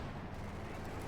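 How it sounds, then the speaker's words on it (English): Sherman tank cannon fire striking a Panzer IV during a Company of Heroes 2 match, a dense low rumbling blast with battle noise sustained across the whole moment, no voice over it. "Direct hit here from the Sherman on the Panzer IV"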